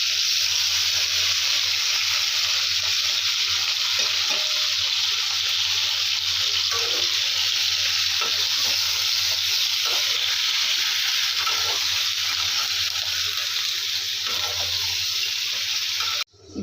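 Onion, tomato and ginger-garlic paste frying together in a pan, giving off a continuous loud hiss and sizzle with faint stirring scrapes underneath, cutting off abruptly at the end.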